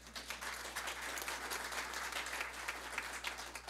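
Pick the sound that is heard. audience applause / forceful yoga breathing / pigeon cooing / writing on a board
audience applause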